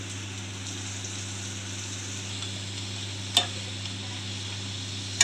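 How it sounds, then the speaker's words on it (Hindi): Jalapeño cheese poppers deep frying in hot oil in a kadai give a steady, even bubbling sizzle at close range, with two brief sharp clinks near the end. "सभी बहुत अच्छे से मैंने फ्राई कर लिए हैं, इनको कढ़ाई से बाहर निकाल लेंगे"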